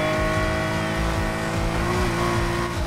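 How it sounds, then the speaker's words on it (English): A Nissan R34 GT-R in the racing video game Need for Speed Heat, engine droning steadily at high revs through a handbrake turn, with a faint tire squeal in the loud continuous roar. "Just the tap of handbrake."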